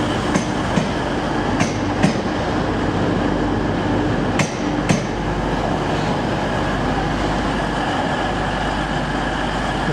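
Continuous heavy rumble of a train at a Sheffield railway station platform, with sharp metallic clanks and knocks ringing out now and then over the steady low drone.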